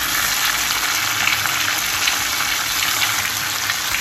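Brinjal simmering in masala with oil in a vessel on the stove, a steady close hiss and bubbling sizzle with no pauses or voices.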